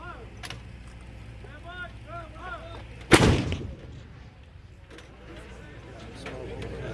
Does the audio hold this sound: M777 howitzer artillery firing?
yes